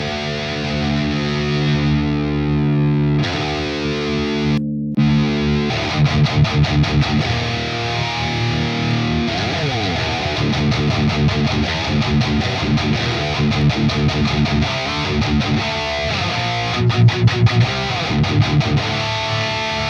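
Electric guitar played through a Neural DSP X amp simulator, heavily distorted chords and riffs with palm-muted chugs, brief pauses and sustained ringing notes, loud and close throughout without any voice.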